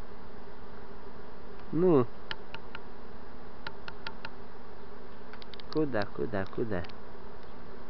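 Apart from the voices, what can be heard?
honey bees buzzing while a swarm queen is caught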